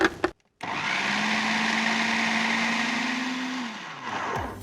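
Blender motor pureeing cooked pumpkin, a loud steady whir that runs unbroken for about three seconds after a brief start, then winds down and stops, with no talk over it.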